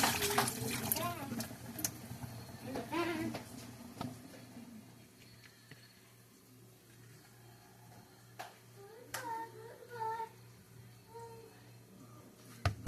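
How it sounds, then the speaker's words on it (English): Water pours and patters off shrimp that soaked in baking soda, water and lemon juice, splashing close by in the first few seconds before quieter handling sounds and a brief voice. "gonna pour the water off of them."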